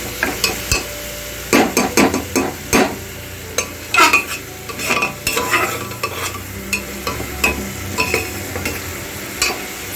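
A spice mix for chicken curry fries over a medium-to-high flame while being stirred: a steady sizzle broken by repeated close scrapes and clinks of the spoon against the pan, with no talking.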